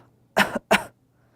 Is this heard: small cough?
yes